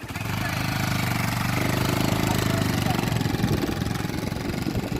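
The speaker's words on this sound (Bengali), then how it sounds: "যাচ্ছি বাইক নিয়ে আমরা" A motorcycle engine runs nearby at a low, steady throb, close and moderately loud, with a faint voice mixed in.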